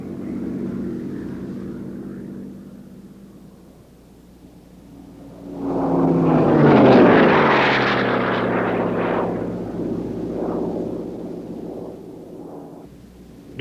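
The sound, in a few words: P-51 Mustang aircraft flying at an air show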